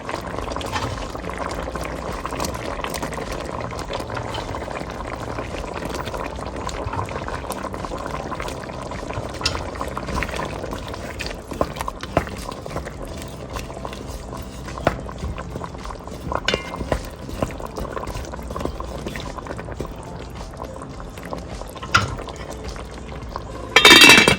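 A pot of okra cooks with pepper and thyme, bubbling and simmering steadily at close range, with occasional clinks of a utensil and stirring sounds over the long, even sizzle.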